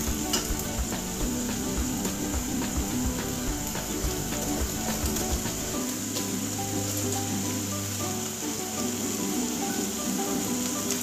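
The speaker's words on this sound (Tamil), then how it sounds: "அடுத்து गरम मसाला கொஞ்சம் சேர்த்துக்கலாம் நல்லா வதங்கட்டும்" Potato gravy sautéing in a pan with pepper powder and garam masala, a continuous close sizzle and crackle with occasional stirring scrapes and a low steady hum underneath.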